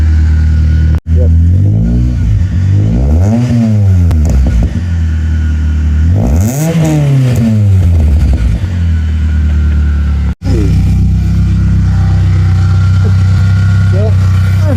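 A motorcycle fitted with a cheap aftermarket exhaust idles loudly up close, and two distinct throttle blips swell and fall back to a rumbling idle.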